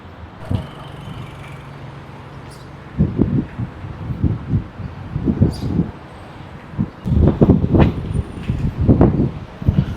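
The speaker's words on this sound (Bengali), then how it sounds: "প্রচণ্ড হাওয়া দিচ্ছে।" Strong wind buffets the microphone on a hot city street in Dubai, with quiet stretches broken by deep, rumbling gusts that grow heavier and more frequent in the second half.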